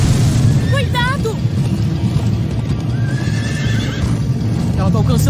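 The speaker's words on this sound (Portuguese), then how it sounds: "Ah, cavalinhos!" Animated horses neigh and gallop in a Minecraft Story Mode chase, with whinnies rising over steady loud hoof clatter and rumble throughout.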